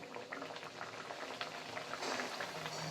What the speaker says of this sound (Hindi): अब इसमें एक एक करके हम अपनी पूरियां छोड़ लेंगे